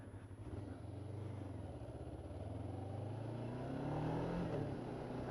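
A frugal motorcycle's engine hums steadily while riding, a close, continuous low drone whose pitch slowly rises and falls as the bike accelerates, with no talking.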